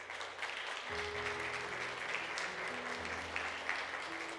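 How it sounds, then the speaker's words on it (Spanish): A church congregation applauding during a Spanish-language service, steady clapping filling the room with some sustained background tones. "Dale un aplauso a Jesús."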